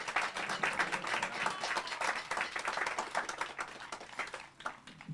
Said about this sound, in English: Also, Anne Reed did not get a proper round of applause for her declaration